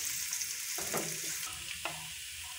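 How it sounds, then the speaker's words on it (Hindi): Garlic-ginger paste sizzling with browned onions in hot oil, a steady fairly quiet frying hiss with a couple of brief utensil scrapes and taps. "अब हम लोग इसके अंदर डाल रहे हैं लहसुन अदरक का पेस्ट।"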